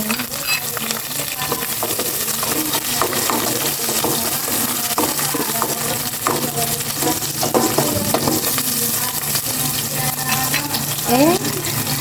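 Garlic, onion and chili fry in a pan with a steady, dense sizzle and crackle that lasts throughout, with occasional stirring clinks and scrapes close by.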